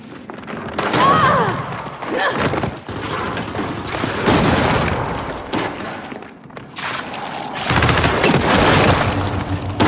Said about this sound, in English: Watch it! Flashbang!